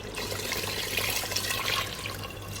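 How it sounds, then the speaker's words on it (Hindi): A bowl of water tipped into a pot of aloo gosht with yogurt and potatoes, giving a steady, close gushing pour that lasts a couple of seconds without talk. "अब हम इसके अंदर 1 बॉल पानी डाल देंगे,"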